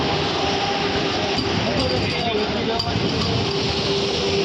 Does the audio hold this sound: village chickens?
no